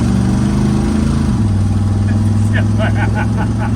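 A 1965 Chevrolet C10 pickup's engine rumbles at idle with a deep, throaty exhaust note, loud and close; the pitch drops partway through, and a faint voice is heard in the background.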